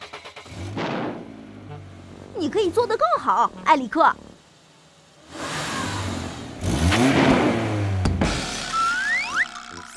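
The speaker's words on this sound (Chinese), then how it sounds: "先来一个美妙响亮的发动声音" A cartoon truck's engine starts and revs in short, loud, bouncy bursts, with animated character voices speaking before and around it.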